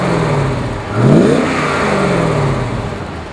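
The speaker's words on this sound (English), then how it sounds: "how about I start it for you so you can hear what it sounds like." A 1994 Chevrolet Corvette ZR-1 V8 cranks and catches with a sharp rising rev around the one-second mark, then settles into a steady, loud, close engine drone with a slight falling tone.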